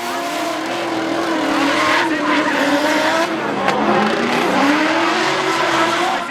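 LS-swapped Mazda Miata drift cars racing hard at Englishtown Raceway Park, a loud continuous roar of engines with wavering revs and sustained tire squeal close by, no talking.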